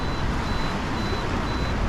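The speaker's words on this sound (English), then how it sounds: "I've got a 10-second timer on" A camera's 10-second self-timer beeps as a thin, faint, steady tone, nearly buried under the loud, continuous roar of rough sea on the Cairnbulg coast in Scotland.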